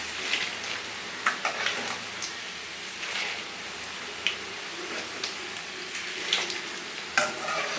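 Kara boondi batter drops fry in hot oil with a steady close crackling sizzle, broken by occasional sharper pops and scraping stirs, and no voices.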